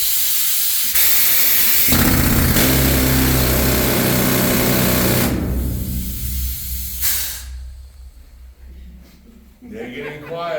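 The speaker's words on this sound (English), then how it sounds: "All this leg does is it pushes that drill forward into the face for me." A leg-fed pneumatic rock drill with tungsten carbide bits bores into the rock face of an old gold mine with a loud, dense, hissing roar. It then cuts out, and quieter sounds and voices follow.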